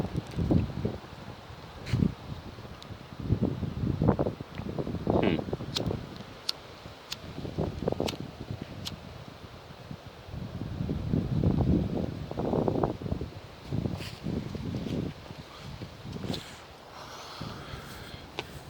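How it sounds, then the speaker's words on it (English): Strong wind outdoors on a walk, gusting and buffeting the microphone in uneven low rumbling surges, with a faint murmur from a person. "It's really windy."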